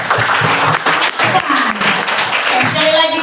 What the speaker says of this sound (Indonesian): mari kita tepuk tangan dulu